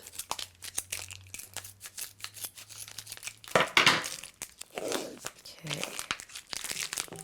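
A plastic-wrapped brick of vegan icing is cut and torn open, with crinkling, tearing and rustling of the wrapper beneath someone talking, plus a low hum at the start.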